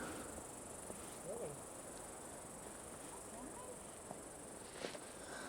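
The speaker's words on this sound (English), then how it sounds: "I think the bugs are making a return visit." Insects chirp steadily in Halfmoon Meadow, a faint high continuous trill across a quiet mountain meadow, with soft rustles and a few brief murmurs of people nearby.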